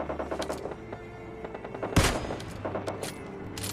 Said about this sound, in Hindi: अब मैं छत पे जाता हूं, कार 98 निकालकर कुछ शॉट लेने की कोशिश करता हूं,